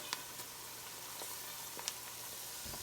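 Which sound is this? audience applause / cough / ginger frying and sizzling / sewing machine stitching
ginger frying and sizzling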